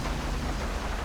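Rain falls in the video game GTA 5 as a dense, steady hiss of broadband noise with no distinct drops or pauses.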